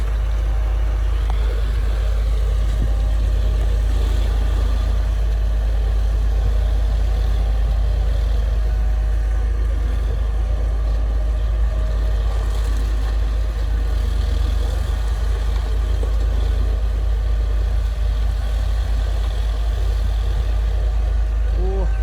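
A heavy Kubota M135X farm tractor diesel engine rumbles steadily and loudly throughout, with a deep low drone and mechanical clatter, nearby and continuous.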